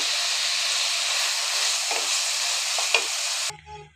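Onion and green chilli hiss and sizzle steadily in a hot pan while chowmein is cooked, a dense continuous frying noise with a few stirring knocks before it cuts off abruptly near the end.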